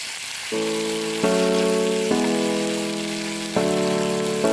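Browned onions sizzle steadily in a pan as ginger-garlic paste is stirred in for a home-style local chicken curry, a continuous close frying hiss with sustained musical tones playing over it.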